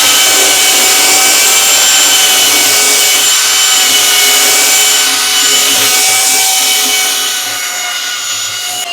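A belt sander works the wooden top of a custom coffee table with a loud, constant high-pitched motor whine over a rough grinding hiss that eases slightly near the end.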